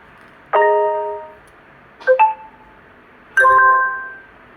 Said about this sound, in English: you can actually choose the ringtone you want to.